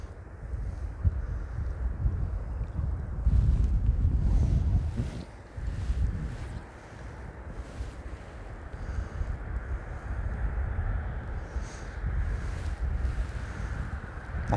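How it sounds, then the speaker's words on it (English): Steady wind buffets the microphone beside a Scottish highland loch during fly fishing for wild brown trout, a continuous roaring rush that swells and dips throughout, with no talk. "This wind's no helping matters."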